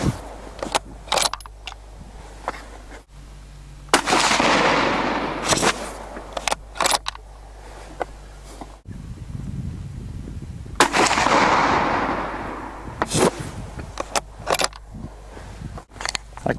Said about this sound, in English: now we'll shoot 3 shots of the Norsler 60 grain partitions